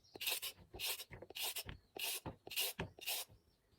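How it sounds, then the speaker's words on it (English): A peeler scraping the skin off a carrot in six rhythmic rasping strokes, close and crisp, with short pauses between strokes. "So okay, I peel the skin."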